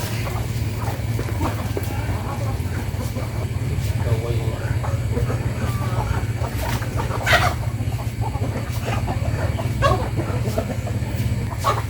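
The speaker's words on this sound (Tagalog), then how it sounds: "Okay, hato na pumabaga ng pagkaon niya itong mga manok." Chickens cluck and squawk while being fed, with a steady low hum underneath and a person talking over the birds throughout.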